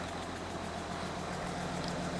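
A rough-running Audi Q7 diesel engine idles with a steady, pulsing knock under broadband mechanical noise, recorded close up and with no talking.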